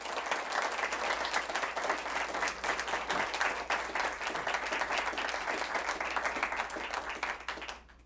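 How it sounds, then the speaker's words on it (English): An audience at a city council candidate debate gives a sustained round of applause, dense overlapping clapping holding steady for several seconds before fading out at the end. "Let's welcome them with a one-time round of applause"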